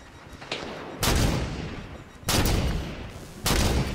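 Gunfire in the Halo 5: Guardians video game: three loud, broadband blasts at roughly one-second intervals ring out over a steady rumbling background of game noise, each burst sharp and close, with no talk.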